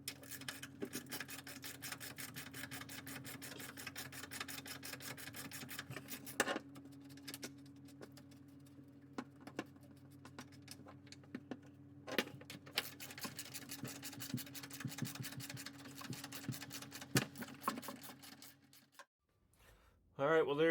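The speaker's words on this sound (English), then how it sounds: "I need to clean these holes out. So I got some thread chases here," Thread chasers worked through bolt holes in the pan of a 1971 VW Super Beetle, giving a steady close scraping and rasping with scattered metallic clicks over a constant background hum for about twenty seconds.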